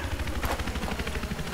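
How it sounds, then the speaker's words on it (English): A helicopter's rotor thumps in a continuous low throb, fairly loud and steady, with no voices. "I can hear a chopper!"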